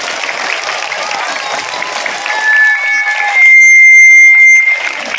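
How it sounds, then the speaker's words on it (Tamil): A crowd applauds at a panchayat union middle school annual day, a dense wash of clapping with voices mixed in and a piercing electronic tone sounding through the latter half. "அருமையா கைத்தட்டுங்க பார்ப்போம்"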